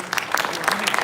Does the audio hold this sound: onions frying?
no